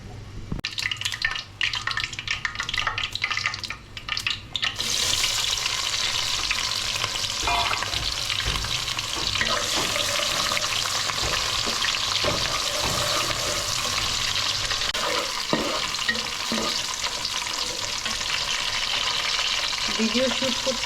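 Onions frying in hot oil in a pan for Bengali chicken kosha give a loud, continuous sizzle with stirring scrapes throughout; the first few seconds are sparser and choppier before the dense hiss takes over.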